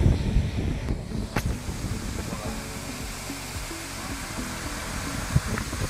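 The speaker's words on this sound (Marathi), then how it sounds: "डॅमचं पाणी येत आहे" Water bursts out of a dam under pressure, producing a loud, continuous broadband roar like a waterfall, with wind buffeting the microphone now and then and faint voices nearby.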